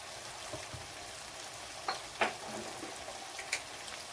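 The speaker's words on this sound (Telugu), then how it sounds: "ఈ కొంచెం ఈ లివర్కు పట్టేటట్టు వేయించుకుందామండి" Liver frying in a pan with coriander powder, cumin powder and garam masala for a spinach-liver fry curry gives a faint, steady low sizzle, broken by a few soft stirring clicks.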